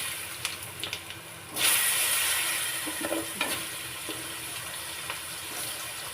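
Potatoes drop into a hot pan of oil and burst into a loud, steady sizzle that hisses on, with a few soft taps and stirring scrapes over it.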